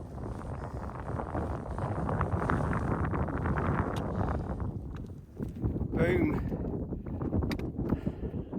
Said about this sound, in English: I know it's windy, it's difficult to hear.